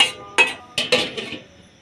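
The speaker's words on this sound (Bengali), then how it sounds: "এবার এটাকে কিছুক্ষণ নেড়ে আমি সেদ্ধ হওয়ার জন্য ঢাকা দিয়ে দেব" A pan of potatoes being stirred and then covered with a lid, producing several sharp metallic clinks and clanks in an uneven cluster, close and distinct against a quiet background.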